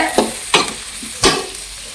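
Four large onions stir-fried with green chillies in a pan, three distinct close spatula scrapes over a soft steady sizzle.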